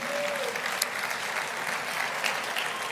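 A church congregation applauds steadily for several seconds, a dense, even wash of clapping heard from within the room.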